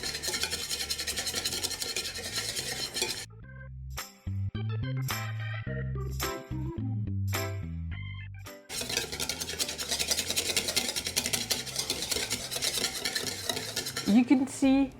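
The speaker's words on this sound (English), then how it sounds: "you're going to whisk all the ingredients together for 1 full minute" A whisk beats eggs and mayonnaise ingredients in a bowl, making a fast, steady rasping swish that stops for a few seconds midway under background music, then resumes just as briskly.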